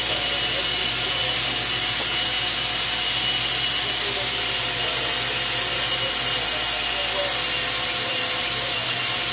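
A cable blowing machine forces micro cable into a duct with compressed air, a steady loud hissing roar with a constant high whine that runs through the whole stretch without pause.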